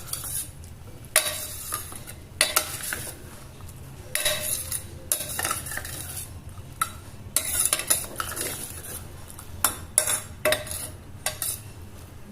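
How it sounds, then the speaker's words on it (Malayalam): A spoon stirs jackfruit erissery curry in a pot with added water, scraping and clinking against the metal in irregular bursts over a low steady background hum, with no talking. "ഇത് നന്നായി മിക്സ് ചെയ്യാം."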